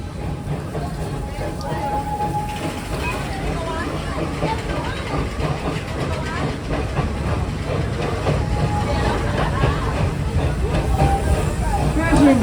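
Serengeti Railway steam train at Busch Gardens Tampa Bay rolling steadily along, a continuous close rumble with light rhythmic clatter and faint hiss, a narrator's voice audible over it throughout.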